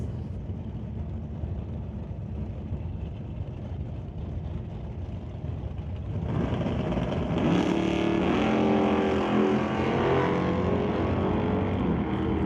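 A 1978 Chevy Malibu and a 1967 Chevy Nova in a Super Pro drag race, with a low engine rumble that swells into a loud, sustained roar of both cars launching and running down the strip, heard from trackside.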